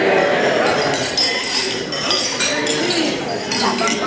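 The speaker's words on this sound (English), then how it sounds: "So if you could all raise your glasses." Wedding guests toasting fill a room with bright clinks of glasses and tinkling tableware over a steady murmur of chatter, the light chimes scattered continuously through the crowd noise.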